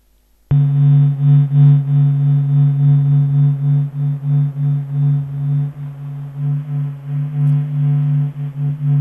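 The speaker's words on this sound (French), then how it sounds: "Voilà le son du Soleil." Sonified vibrations of the Sun's surface: a sudden onset into a sustained low droning hum with slowly pulsing, wavering tones, loud and steady for several seconds with no voices.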